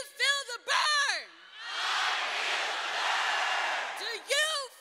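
A crowd of students at a political rally in suburban Washington, D.C. roars with sustained cheering and whooping for about two seconds, set between bursts of a loud voice chanting call-and-response.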